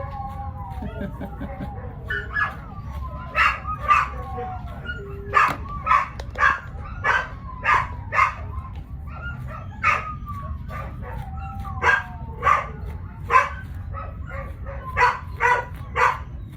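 A dog barks and yips over and over in quick bursts, fairly close, over a steady low background hum.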